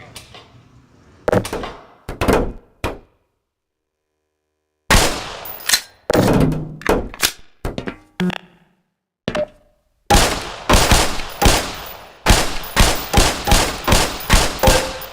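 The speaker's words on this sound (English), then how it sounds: "Put 7 rounds in the center ring of each target." Weapon shots at targets on a firing range in the video game Black Mesa, sharp reports in separate bursts with pauses, ending in a fast run of evenly spaced shots.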